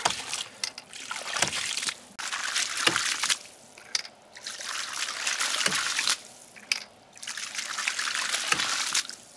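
Water trickling from an off-grid pump, a close soft splashing dribble that comes in uneven spurts and pauses, with faint knocks between flows.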